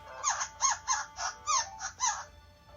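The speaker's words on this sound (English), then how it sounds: "Sounds like a puppy." VTech Bugsby reading toy giving a puppy-like sound, a series of about six short electronic yips or barks in a quick rhythm, thin and close.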